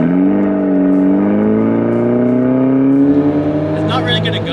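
A rear-wheel-drive car's engine revs hard, its pitch climbing steadily over several seconds before a brief rattle near the end, loud and close.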